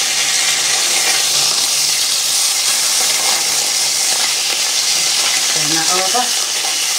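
Beef burgers and bacon sizzle loudly in a frying pan for a mixed grill, a steady dense crackling hiss throughout, with a brief spoken remark and a clink of a utensil near the end.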